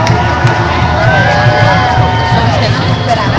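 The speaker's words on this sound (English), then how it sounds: "It looks to be like a crowd" A crowd of roughly 200 to 300 people at an OccupySF May Day rally in 2012 cheers and whoops continuously in a loud, dense wash of voices and babble, with scattered shouts rising above the din.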